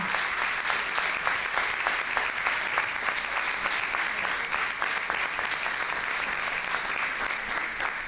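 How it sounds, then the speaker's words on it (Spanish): Seminar attendees at an intercultural panel give a long, steady round of applause, many hands clapping in a fast, rhythmic patter that holds at a moderate distance without a break. "un aplauso"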